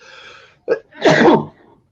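A single person's sneeze, close and clear: a short sharp intake followed by a loud burst, then quiet.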